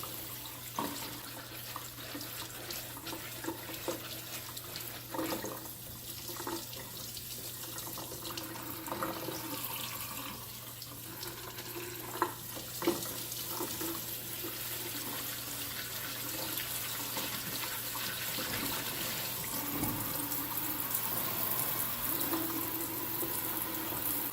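Water from a kitchen tap runs steadily into a sink with a strainer as pumpkin seeds are rinsed, a constant splashing rush with occasional clinks and knocks of handling.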